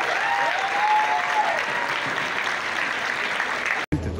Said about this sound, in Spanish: Fuerte aplauso, por favor, a todo el elenco.